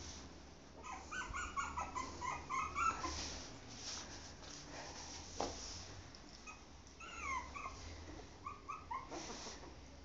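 A puppy whimpers and yips in repeated high, thin bursts, clustered early and again near the end, close to the microphone over a low steady background hum.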